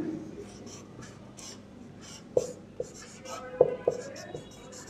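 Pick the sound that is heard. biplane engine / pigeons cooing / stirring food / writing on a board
writing on a board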